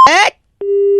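A steady telephone line tone sounds after a call is hung up, following a short burst of loud, jumbled audio. The clear, single-pitched tone plays alone and holds to the end.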